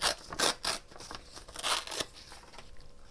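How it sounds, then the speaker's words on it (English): Paper for a junk journal page is torn by hand in several quick ripping strokes close to the mic, with short pauses between them, then a faint trailing crinkle, and no talking. "I'm going to tear this way. And I'm just going to tear it to about"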